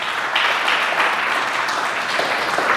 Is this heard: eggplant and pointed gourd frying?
no